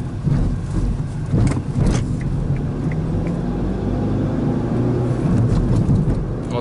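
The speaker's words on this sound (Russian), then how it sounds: "Вот сейчас вот у нас будет здесь вообще как бы медленное проезжание по неровностям." A 2015 Kia Rio rolls slowly over road bumps, with a steady low rumble from the car and a few thumps as the wheels drop over uneven pavement.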